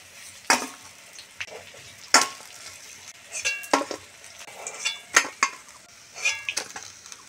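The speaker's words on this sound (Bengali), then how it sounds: "বেশ লাল লাল করে মাছগুলো ভেজে নিয়েছি" Katla fish pieces frying in oil, a low sizzle under frequent loud clanks and scrapes of a metal utensil against the pan as pieces are turned and lifted, no voices.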